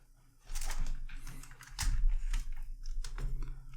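A louder replacement computer keyboard is typed on up close in fast, uneven runs of sharp clacks and heavier thumps, running nearly continuously after a brief quiet start, with no talking.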